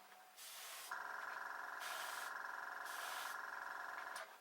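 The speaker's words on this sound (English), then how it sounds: "Hopefully you can hear me as my compressor kicks in and out." A small air compressor runs for airbrush painting of an Airfix 1/24 Hawker Typhoon model kit, giving a steady close hum with bursts of airy spray hiss starting and stopping in three pulses.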